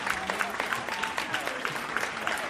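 Audience applause welcoming puppeteer Paul Hooson as a guest on a talk show, a fairly faint, steady patter of clapping with individual claps audible, and no cheering voices standing out.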